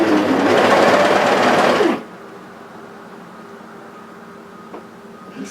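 A sewing machine test-stitches a roll neck longline sweater, running as one loud, steady whirring burst of about two seconds before stopping abruptly into near silence.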